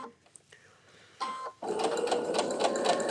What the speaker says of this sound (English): I'm going to sew across one short edge